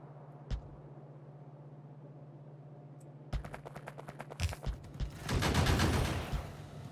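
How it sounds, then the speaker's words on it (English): Gunfire aimed at a robot in the Factorio modpack All The Overhauls: a single shot, then rapid bursts of shooting that thicken into a loud, dense volley near the end, with no talking. "Stop shooting at my robot."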